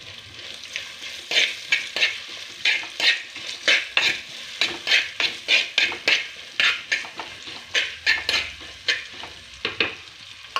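Ginger frying in oil in a pan for dried shark curry, with a spoon stirring in a quick, regular rhythm of loud scraping strokes over a continuous sizzle.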